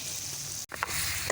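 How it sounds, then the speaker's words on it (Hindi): Chicken dropped into a hot karahi over an open fire, a steady bright sizzle of frying that breaks off with a brief thump midway, then resumes with bubbling crackles, no talk. "अब इसमें मैं डाल दूँगी चिकन।"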